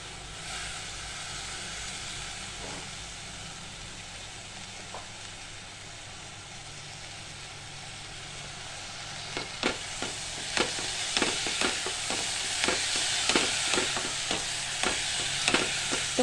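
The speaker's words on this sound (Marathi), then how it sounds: "आपण जे 15 मिनिटासाठी डाळ तांदूळ भिजत घातलं होतं ते आपण टाकतोय आता" Soaked lentils and rice go into a cooking pot for mixed-dal khichdi. A soft background hiss gives way to a run of close clattering knocks and scraping as the grains drop in and are stirred.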